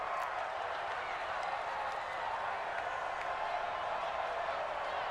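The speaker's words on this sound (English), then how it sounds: "The crowd getting into it as we come up on a big third down." A stadium crowd in the football video game Madden NFL 20 cheers before a big third down, a continuous, even roar of many voices held at a moderate distance.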